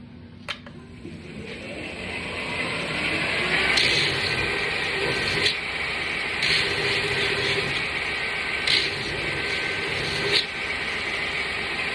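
Belt grinder running Scotch-Brite finishing belts over a modified axe head, a steady broadband abrasive hiss over a low motor hum, with brief louder scrapes as the steel is pressed to the belt.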